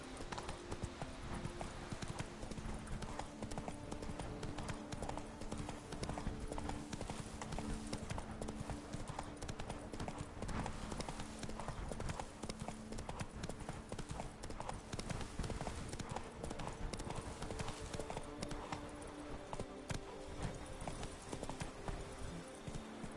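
Horse hooves clip-clop at a steady gallop rhythm in The Witcher III video game, a continuous loud beat of hoofbeats over a dense ambient bed, with a brief voice now and then.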